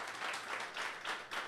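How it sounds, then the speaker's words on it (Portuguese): A church congregation gives faint, distant applause in a short, uneven burst of scattered clapping that swells and dips. "Dê um aplauso a Jesus."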